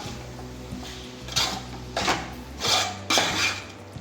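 A spatula scrapes and clinks against a pan as prawn roast is stirred, with four or five louder scraping strokes standing out over a quiet background.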